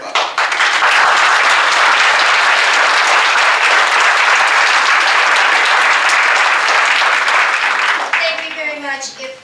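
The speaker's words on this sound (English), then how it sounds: "If we could keep the applause to a minimum, we can get through more people faster" An audience at a Library Commission meeting at Foothills Library breaks into loud, dense, sustained applause for about eight seconds, the clapping close and steady before it fades and a single voice starts speaking.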